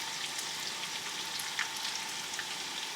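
Boiled potatoes with onions in a pan give a steady, even sizzle, close and continuous, with no talk over it.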